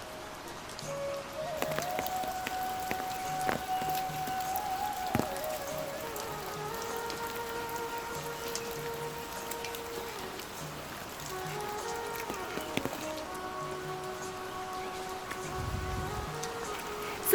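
Heavy rain falls steadily on a foggy mountain footpath near Kartik Swami Temple in Uttarakhand, a continuous close patter with no voices.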